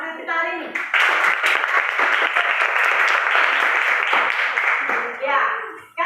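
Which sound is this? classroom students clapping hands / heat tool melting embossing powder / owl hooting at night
classroom students clapping hands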